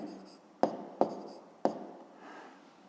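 A pen or chalk writes out a math answer with three sharp taps and short scratchy strokes in between, close and fairly clear, with no talking.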